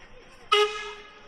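A heritage steam train on the Embsay and Bolton Abbey line gives a single short horn blast partway through, loud and close against quiet background noise.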